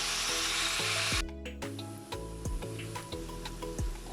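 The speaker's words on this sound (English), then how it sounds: "I'm going to allow this to cook for about 5 minutes or until the onions is slightly brown." Onions frying in a pan for chickpea and paneer biryani, with a hiss that fades into quieter sizzling and several soft stirring scrapes and ticks.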